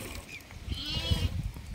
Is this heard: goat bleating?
yes